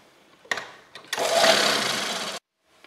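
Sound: sewing machine stitching a shirt collar

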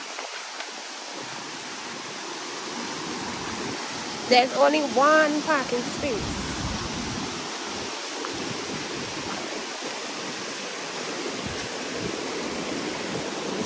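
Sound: river water flowing

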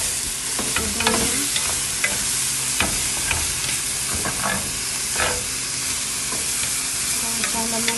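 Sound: shrimp pan-frying in a sizzling pan

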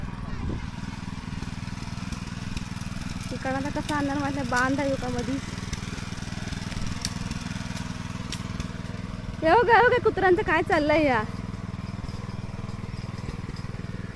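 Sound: tractor engine in a rice field

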